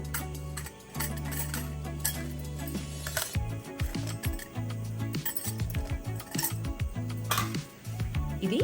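An oiled gun-type murukku press is assembled with a mould disc, giving a run of close metallic clinks, clicks and scrapes over a steady low hum.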